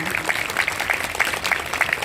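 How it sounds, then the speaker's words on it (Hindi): Audience applause at a public inauguration ceremony: a dense, steady patter of many hands clapping at moderate volume throughout, with some voices mixed in. "मैं तालियां चाहूंगा विनय जी के लिए भी"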